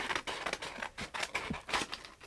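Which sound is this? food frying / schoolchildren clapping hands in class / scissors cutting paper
scissors cutting paper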